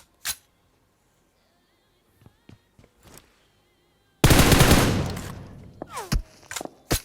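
Gunfire in the mobile battle-royale game PUBG Mobile: a few scattered sharp shots, then a loud, dense burst of rapid fire followed by more isolated cracks.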